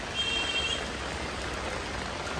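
Rain falls in an urban village in Xi'an, a dense, even hiss of drops on streets and surfaces, steady and close throughout the short stretch, with no voices.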